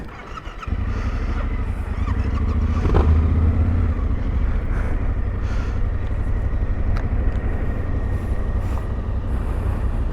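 An off-road motorcycle engine roars and drones steadily at close range as the bike rides along near the Salève, with a brief knock near the start.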